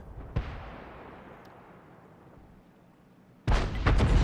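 A Hummel self-propelled artillery gun in a tank video game fires one sharp blast early on, then its boom rolls off into a fading rumble. A second loud burst of heavy impact noise follows near the end.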